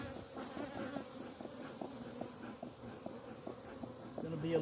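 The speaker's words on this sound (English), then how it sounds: "All right, bees, we're going to leave you alone." Honeybees buzz around a new hive just after being moved from a swarm trap, a faint, steady hum of many wings close to the box, with a quiet voice talking at times.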